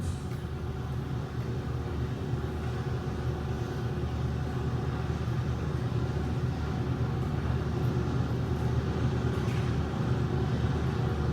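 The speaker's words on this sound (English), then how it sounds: "Here the aircraft is being shown taxiing out to test its landing gear" An aircraft taxiing out at Chino Airport to test its landing gear, a steady low engine rumble heard from a moderate distance, continuous and slowly building slightly in loudness.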